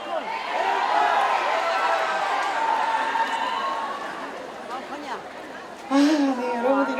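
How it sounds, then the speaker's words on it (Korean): Audience at an outdoor rose festival opening concert in Imsil calling out for an encore: a sustained crowd chant and hubbub filling the air, fading somewhat before a louder swell near the end, with a voice speaking over it. "여러분들 이렇게 또 앵콜을 외쳐주시니까"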